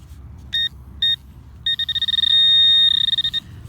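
A White's Spectra V3i metal detector beeps close up: two short electronic tones, then a rapid run of pulsing beeps that merge into a sustained tone before stopping, over a low background rumble.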